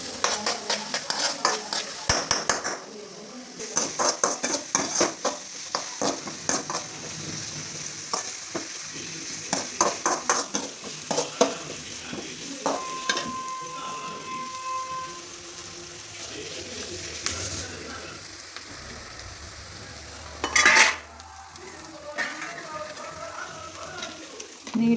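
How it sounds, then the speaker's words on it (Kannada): Drumstick leaves (nugge soppu) fry in a pan for palya while being stirred, a steady soft sizzle under repeated scraping and clinking strokes of a spatula, close and continuous with occasional sharper knocks. "ಕಡ್ಡಿ ಕೆಂಪಾಗಬೇಕಂತ ಹುರಿಬೇಕು."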